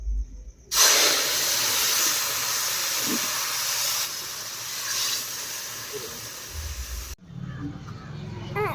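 Chicken pieces for a Bengali country chicken curry hit a hot pan, setting off a loud, broad hissing sizzle that holds steady for several seconds, then cuts off abruptly.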